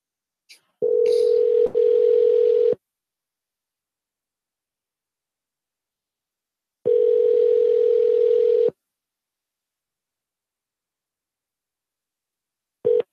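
A telephone ringback tone on a call being placed, heard as two long steady buzzing rings about two seconds each, separated by several seconds of silence, with the start of a third at the end, loud and clear with no talk.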